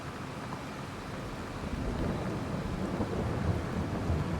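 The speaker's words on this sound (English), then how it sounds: "Look at it rain." Steady rain with rolling thunder, a dense even hiss that swells louder partway through and carries a low rumble underneath, with no voices.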